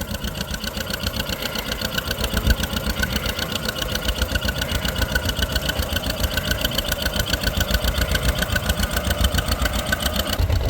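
A tractor engine pulling a plow through a field at a North Carolina farm plow day chugs in a fast, steady, even rhythm, loud and close, with no talk over it.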